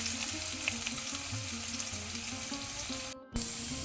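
Two thinly sliced onions fry in hot oil with cloves and cinnamon for Mangalorean chicken pulimunchi, a steady soft sizzle with a low hum beneath, cut by a brief gap near the end.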